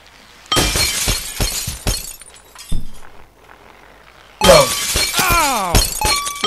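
Glass shatters repeatedly in the physics game Happy Wheels, with sharp crashing bursts, a pause with a lone clink, then a longer run of breaking with ringing, sweeping spinning-glass tones.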